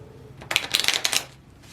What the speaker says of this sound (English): I'm shuffling these on my lap.